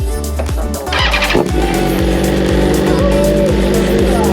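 A BMW M1000RR motorcycle engine catches and runs close by, a loud, even, pulsing idle with a brief rev near the start.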